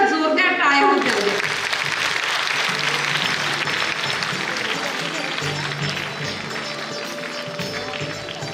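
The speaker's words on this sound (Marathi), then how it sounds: "त्यांच्यासाठी एकदा जोरदार टाळ्या होऊ द्या" Sustained applause from an audience at a school's silver jubilee celebration, a steady dense wash of clapping that holds for several seconds after a brief moment of speech at the start.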